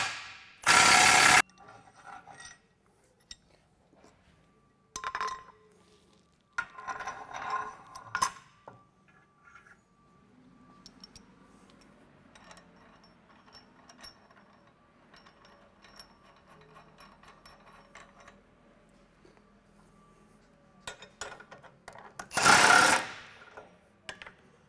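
Socket wrench with 1 1/8 socket loosening a bolt on a tank weight bar bracket: short loud bursts of ratcheting clicks separated by quiet gaps, with scattered handling knocks in between.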